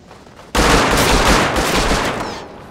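Gunfire in the game Rust, shots fired through a fir tree: a sudden loud burst of rapid repeated shots lasting about two seconds, close and harsh, then fading.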